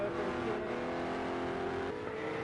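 A Lamborghini GT3 race car in a racing video game drones near the top of its revs, a steady, loud, buzzy engine note that dips slightly in pitch near the end, with no voices.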